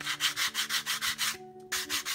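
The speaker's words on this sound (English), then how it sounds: "what I'm doing is taking away these mould seams. And yes, I know it's coarse and I know it's leaving sanding marks behind" Coarse sanding of mould seams on a plastic 1/35 Takom MkIV tank model, a steady close rasping rub in quick regular back-and-forth strokes with one brief pause, no voices.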